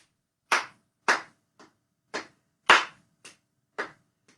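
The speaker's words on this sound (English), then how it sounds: "If you clap harder on the 1," Hand claps keeping a four-beat tempo, eight sharp isolated claps in an even pulse with a few noticeably louder than others, close and dry with silence between them.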